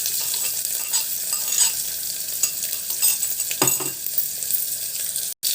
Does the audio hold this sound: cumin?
yes